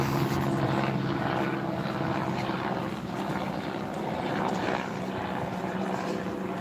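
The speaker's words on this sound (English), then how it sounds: "we've got a helicopter going overhead." A helicopter passes overhead during an outdoor morning walk, a steady loud rotor drone with a low throb that holds throughout with little change in level.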